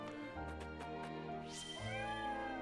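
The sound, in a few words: cat meowing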